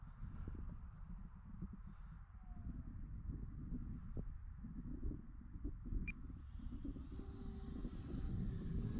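Arrows Viper radio-controlled model jet on an electric fan setup flying over a cow-pasture airstrip on a cold day, a faint steady whooshing drone that slowly swells as it passes, with low wind rumble beneath.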